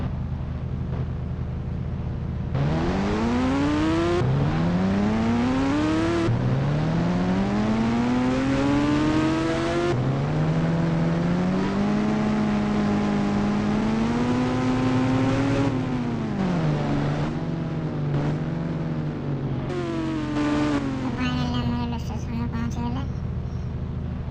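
A motorbike engine in the Indian Bike Driving 3D video game revs up again and again near a railway station, its synthetic pitch rising and falling in repeated sweeps, loud and close throughout.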